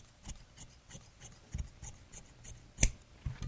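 Scissors snip through jacket lining fabric during a tailoring alteration to shorten a jacket, giving a few soft, close cuts and rustles with one sharper snip near the end.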